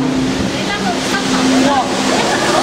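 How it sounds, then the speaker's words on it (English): Steady rushing, gushing water fills the clip with a broad roar, and a voice can be heard faintly beneath it. "The rushing water."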